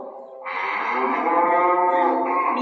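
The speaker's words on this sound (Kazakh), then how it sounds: "Мен сиырмын." A cow lets out one long, low moo lasting a couple of seconds, close and clear with no other sounds around it.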